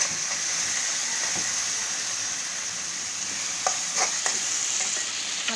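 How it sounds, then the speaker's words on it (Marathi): Green chilli pieces fry with tomatoes in a pan, a steady bright sizzle running throughout, with a few spatula strokes and scrapes near the end. "आता मी यात टाकते हे हिरव्या मिरचीचे तुकडे"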